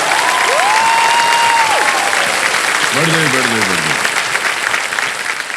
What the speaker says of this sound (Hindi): देखा आपने कितनी ताली बजी है आपके लिए